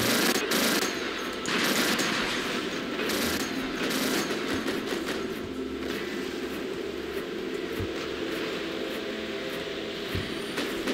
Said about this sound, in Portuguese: Artilharia